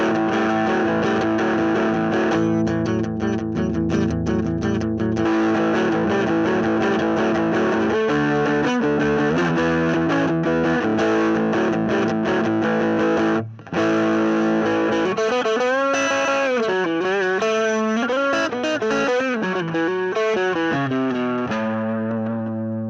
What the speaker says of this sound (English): you can kind of get distortion through your amp without blowing the doors off of the house.